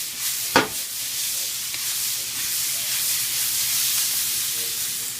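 A single onion sautéing in a pan for tomato basil soup, a steady hissing sizzle throughout with one sharp knock near the start.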